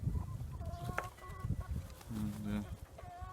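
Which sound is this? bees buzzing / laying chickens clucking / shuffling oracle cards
laying chickens clucking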